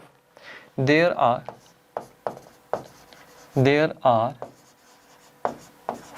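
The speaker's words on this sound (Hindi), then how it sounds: "यहाँ पे मैं लिख सकता हूँ" A maths lesson on permutations: short scratchy strokes of writing on a board fall between and under a teacher's steady spoken explanation.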